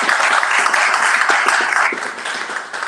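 An audience at a parents' education seminar claps for the speakers, a dense, loud wash of applause that holds steady and then eases slightly near the end.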